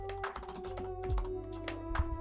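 Rapid keyboard typing ASMR, with dense close-up clicks and taps in an irregular stream against a steady background hum.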